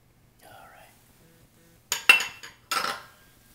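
A spoon scoops into a glass of Mexican shrimp cocktail with diced avocado, giving a few sharp clinks and scrapes of metal on glass, close and bright, after a soft murmur of voice.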